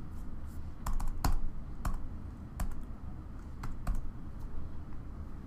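Quiet, close tapping on a computer keyboard as a password is entered during server setup, with a handful of sharp key clicks spaced irregularly over a low background hum.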